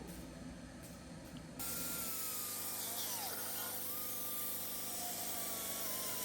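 Metal pipes for wave guides are polished with a power tool, a faint steady whirring hiss with a thin tonal whine that starts abruptly and carries on to the end, close and alone.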